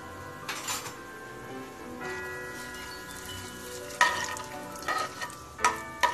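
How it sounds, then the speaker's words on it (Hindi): Whole spices and asafoetida sautéing in hot oil, a soft continuous sizzle broken by several sharp metallic clinks and scrapes of a spoon against the pan, growing busier toward the end. "इसको थोड़ा सा हम सॉटे कर लेंगे।"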